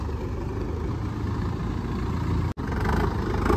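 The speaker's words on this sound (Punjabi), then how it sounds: "ਟਰੈਕਟਰ ਦੀ ਆਵਾਜ਼ ਨੂੰ ਚੈੱਕ ਕਰੋ" A Sonalika 60 tractor engine idles steadily and close by in a continuous low, even chug, broken only by a momentary dropout near the end.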